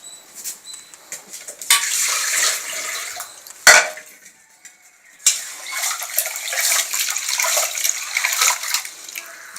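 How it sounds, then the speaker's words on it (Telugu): Rice being washed by hand in water in a pot at home, with sloshing, swirling and grainy rattling in uneven bursts, close by, one brief clank of the pot and a short quiet pause, with no speech. "వీటిని బాగా కడుక్కొని నానబెట్టుకోవాలి."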